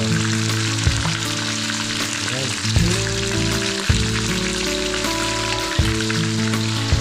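Loud, dense sizzling of tilapia frying in oil, with occasional pops and clatters and a brief spoken word over it.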